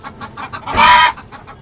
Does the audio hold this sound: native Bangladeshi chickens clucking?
yes